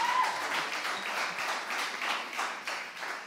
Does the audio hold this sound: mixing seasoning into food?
no